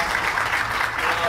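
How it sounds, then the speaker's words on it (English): Brief, dense clapping from a conference audience for a panelist at a software pricing panel discussion, steady and close with no break. "how about another round of applause for Rob Belcher for making our panel today"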